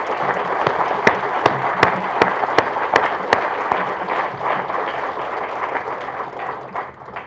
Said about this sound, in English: please give a round of applause for all of our first responders who are here today as well